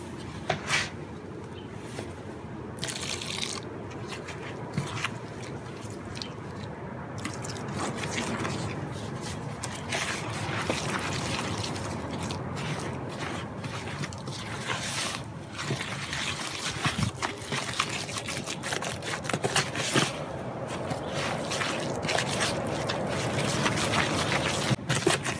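Quikrete Quick Set cement being mixed with water for a leaf-cast bird bath, a thick crumbly mix worked into a smooth batter, giving continuous wet scraping, sloshing and stirring at close range throughout.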